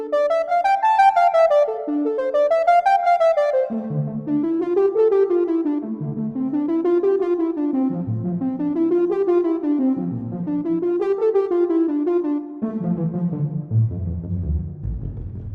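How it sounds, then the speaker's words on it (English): Ten analog synthesizers play short sine-wave tones together in a hall, rising and falling in repeated swelling phrases. The sound is sustained, loud and steady, with reverberant tones and no voices. "Yep, that's 10 analog synthesizers playing short sine waves together in a hall."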